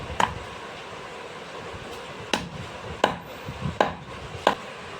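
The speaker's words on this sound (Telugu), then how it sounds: "దీన్ని కూడా మనం దంచి వేసుకోవాలి." Fresh coconut pieces pounded in a mortar for a mutton chops masala paste, five sharp thuds spaced unevenly over quiet kitchen background, close and fairly loud, no talking.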